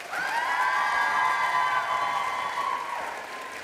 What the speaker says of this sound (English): let's give our guest speaker, Heather Shultz, one more round of applause